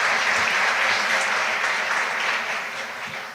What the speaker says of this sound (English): Please give one more round of applause to him.